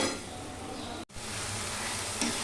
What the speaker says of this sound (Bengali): এই যে আদা পেঁয়াজ রসুনটা বেশ খানিকটা কষিয়ে নিলাম